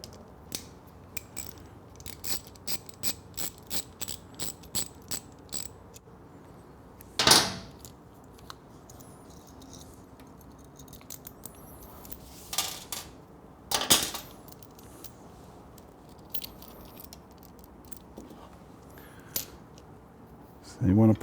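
A ratchet with a 10mm socket works on a motorcycle's retro tail light, giving a run of quick, close, sharp clicks, then a few louder knocks and scattered small metallic handling sounds, all fairly faint.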